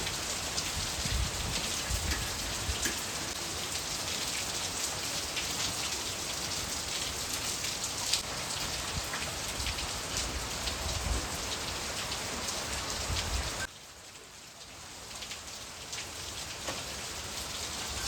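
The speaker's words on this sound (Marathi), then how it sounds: "मस्त वाटतं पावसाचं वातावरण." Steady rain falling outdoors in a rural village during the monsoon, a dense continuous hiss of drops with a brief dip in intensity near the end.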